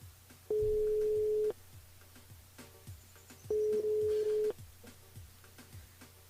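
Two long, steady telephone ring tones sound on a live radio phone-in, each about a second long and separated by a pause, over quiet background hum with no talking.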